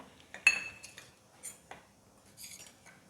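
A spoon clinks and scrapes against a bowl while paneer pakoda batter is stirred together with oregano, cumin powder, chili flakes, mixed herbs and salt, giving a few separate close metallic taps and scrapes with short pauses between.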